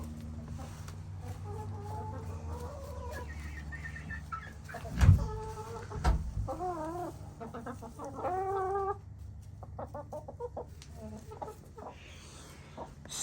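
Caged chickens on an Alaska homestead, kept penned to separate the mature birds from the chicks, cluck and squawk in a string of close, fairly loud calls, with one sharper outburst midway.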